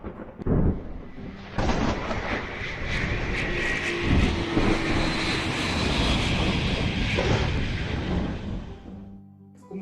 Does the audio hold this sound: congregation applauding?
no